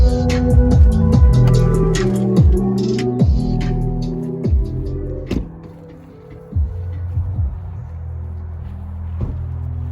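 A 2008 Ford F-150 Lariat SuperCrew with the 5.4-liter Triton V8 runs outside the cab, its deep engine note surging through several loud revs that rise and fall, then settling to a low, steady idle.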